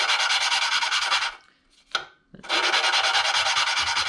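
Valve on a Snowbird snowblower being lapped back and forth with a suction-cup tool, a close, loud gritty rasping that runs steadily, pauses briefly with a single scrape, then resumes at full strength.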